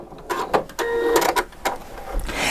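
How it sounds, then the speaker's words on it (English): A Janome 4120QDC-T sewing machine's scissor-button thread cutter whirs and clicks through a few short mechanical bursts and a brief tonal motor whine, close and moderately loud. "When I'm finished, I'm going to touch the scissor button."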